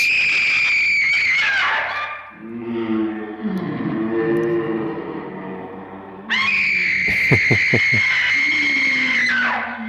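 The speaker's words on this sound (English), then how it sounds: "it opens with a scream, so brace yourselves" A loud, piercing scream opens the horror film House on Haunted Hill as it plays back. The shrill wail sweeps and wavers, drops into a lower echoing cry, then returns as a sustained high shriek.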